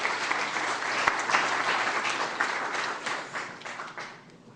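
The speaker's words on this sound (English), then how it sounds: "would you please give a warm round of applause to Les Trachtman." Warm round of applause from a seated audience welcoming a speaker to the stage, steady dense clapping that swells briefly then gradually thins and fades toward the end, with no voices over it.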